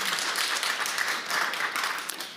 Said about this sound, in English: Let's offer a round of applause.